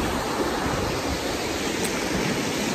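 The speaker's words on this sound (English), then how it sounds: "Here at the river" A river rushes steadily at a hiking spot at Macaroni Flats in Kootenay Boundary, a dense, continuous wash of flowing water close to the microphone with no pauses and no other sounds.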